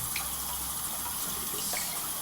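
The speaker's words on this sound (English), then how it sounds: "so I'm going to start with the celery, so just going to wash it really quickly" Tap water runs steadily into a sink as celery stalks are rinsed clean, a continuous close hiss and splash with faint shifts as the stalks move under the stream, and no talking.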